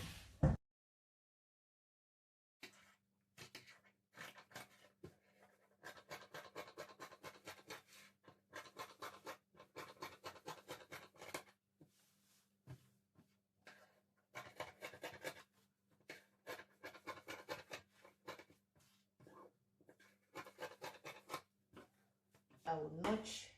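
Scissors cut through fabric for a balloon sleeve in a home sewing setup, giving repeated short snipping and rustling bursts in quick irregular runs, close and fairly quiet, with a steady low hum underneath.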